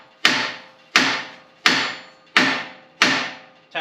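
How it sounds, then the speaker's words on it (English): Five sharp metallic hammer blows strike a steering tie rod end on a Jeep at a steady, unhurried pace, each ringing briefly before fading, close and loud. "the one way I usually get these off is just being able to take a hammer and just"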